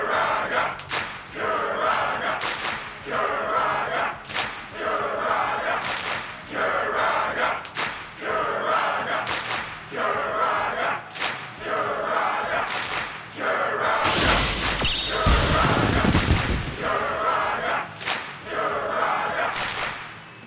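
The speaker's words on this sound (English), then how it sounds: "I got a handful of custom crowd chants" Custom crowd chants in a wrestling video game rise and fall in a steady rhythmic pulse of many voices, with thumping beats and a louder, denser burst of crowd noise partway through.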